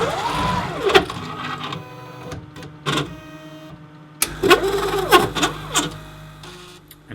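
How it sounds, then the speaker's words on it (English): A DS2 plate washer priming wash buffer through its tubing runs with a mechanical whirring hum and rising and falling motor tones, along with clicks and a louder burst of activity toward the end. "the machine will prime the wash buffer through the system"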